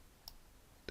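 Two crisp mouse clicks while working in an Excel spreadsheet, one near the start and a slightly louder one near the end, separated by quiet room tone.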